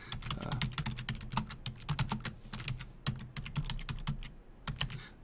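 Rapid, close-up clatter of keys as a title is typed on a computer keyboard, a dense irregular run of sharp clicks that continues steadily throughout without any speech.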